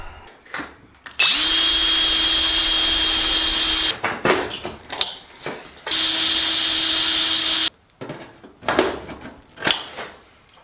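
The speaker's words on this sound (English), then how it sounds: "It's time to drill some holes here." A power drill bores pilot holes through aircraft skin on a Sonex turtledeck, two sustained high whining bursts with clicks, handling clatter and short drill blips between them, close and loud.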